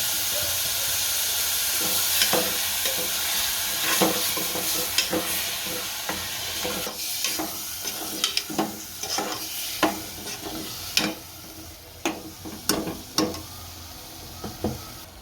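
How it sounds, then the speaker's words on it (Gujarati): Chopped tomatoes sizzle in a hot pan for a Gujarati chana batata shaak, a steady frying hiss broken by repeated sharp clinks and scrapes of a spoon stirring, growing more frequent toward the end. "હવે ટમેટા નાખશું. આને ચડવા દેવું."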